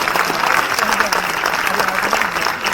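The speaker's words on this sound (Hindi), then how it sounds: "सबको जोरदार तालियां" Loud, continuous applause fills the room at a university alumni cultural evening, steady clapping from a large audience throughout.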